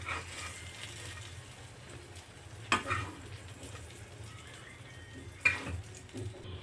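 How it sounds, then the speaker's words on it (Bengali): Eggplant slices fried in a pan for an Odisha-style dahi baingan give a steady, faint, close sizzle. Two brief clatters of stirring or turning break through it. "বেগুনগুলো এইভাবে সব ভেজে নিয়েছি।"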